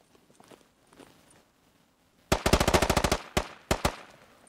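Gunfire in the military shooter game Squad: a fast burst of closely spaced automatic shots, loud and near, followed by a few single shots, after quiet footsteps.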